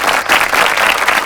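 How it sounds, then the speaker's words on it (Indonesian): Lively crowd applause at an anniversary thanksgiving celebration for Indonesia's financial services authority, a short, loud, dense burst of clapping close by with no talk over it. "Kita berikan tepuk tangan yang paling meriah"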